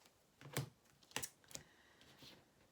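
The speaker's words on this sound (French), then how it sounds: "maintenant on va prendre des cartes" Tarot cards drawn and shuffled by hand during a reading, giving a few quick, soft card snaps and flicks at close range with no voice.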